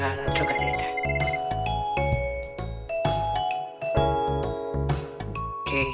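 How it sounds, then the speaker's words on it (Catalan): A bright, repeating electronic telephone ring sounds over music in a radio show studio as a listener's call comes in, loud and rhythmic, with pulsing tones throughout. "Tere, passa'm la trucadeta."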